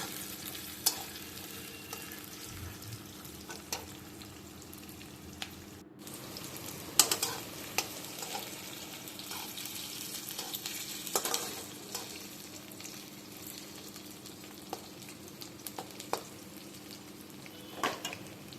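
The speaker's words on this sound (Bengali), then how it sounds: "তার মধ্যে দিয়ে দেব টুকরো করা আলুগুলো ভালো করে ভাজতে হবে।" Potato pieces frying and being stirred for mango chicken, a quiet continuous sizzle broken by scattered scraping and clinking of the utensil against the pan, with one brief silent gap early on.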